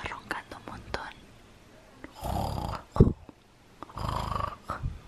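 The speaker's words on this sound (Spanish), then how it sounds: "No sé si la oís, pero está roncando un montón." A dog snoring loudly nearby, two long rasping breaths a couple of seconds apart, with soft whispering and small handling noises around them.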